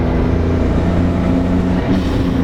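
A Nissan RB20 engine in an S14 car drones steadily and loudly at close range, a low rumbling hum with a fairly constant pitch throughout.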